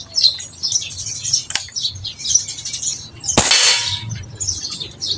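A single sharp metallic impact rings out midway as a PCP airgun pellet strikes a metal target at 24 meters, preceded by a fainter crack, with steady outdoor bird chirping throughout.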